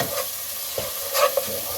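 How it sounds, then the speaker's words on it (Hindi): Gentle sizzling of ground spices, including garam masala, frying in a pan for green chickpea pulao, with a couple of soft stirring scrapes, fairly quiet and close. "अब इसको इसमें भून लें मसाले को।"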